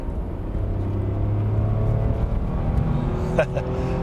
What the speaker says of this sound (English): All right, gonna floor it here.